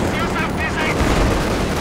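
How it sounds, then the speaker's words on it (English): An SU-76 artillery barrage in a video game: a dense, rumbling spread of gunfire and booms rolling on for the whole stretch, heard beneath a commentator's steady talk. "SU-76 barrage."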